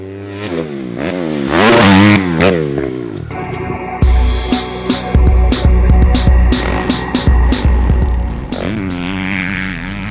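A dirt bike engine revs and climbs in pitch as it accelerates over rough ground, then keeps droning under loud, irregular clattering and thumping bumps, with no talking.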